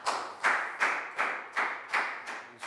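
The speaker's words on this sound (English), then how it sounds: "Big round of applause for Lakau." A classroom of students applauds one of their classmates during a Year 4 science lesson, with six or seven clapping swells at a steady rhythm. Each burst starts sharp and fades before the next one, all at a moderate level.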